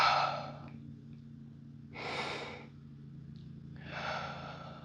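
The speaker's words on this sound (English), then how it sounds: "drop back, inhale." Deep, slow inhales taken during a guided breathing exercise, three broad breath sounds spaced about two seconds apart over a steady low hum, fairly close and moderate in level with no talking.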